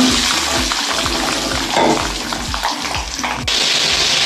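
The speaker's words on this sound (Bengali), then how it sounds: "বন্ধুরা আমি এবার আলুটা কষাচ্ছি" Potatoes stir-fried in a pan for an egg curry, with steady sizzling, wet scraping of a spatula in repeated strokes, and close, loud frying noise throughout.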